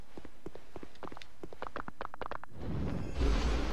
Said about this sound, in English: Sounds like a horse clopping.